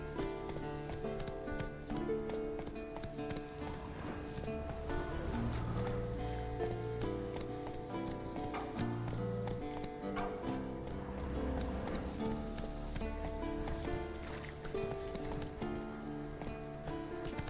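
Geralt's horse Roach gallops in The Witcher 3: Wild Hunt, a steady rhythmic run of hoofbeats blended with loud, continuous game music that lasts the whole stretch.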